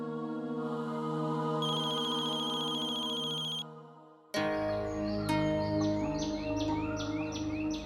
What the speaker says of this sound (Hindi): अक्षरा फोन ही नहीं उठा रही है